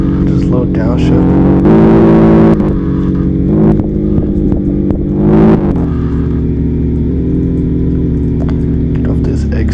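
A Redeye car's engine growls at a low rumble, with two quick revving surges after a downshift. Voices talk loudly over the engine throughout.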